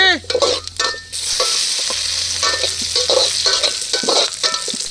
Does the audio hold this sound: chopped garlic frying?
yes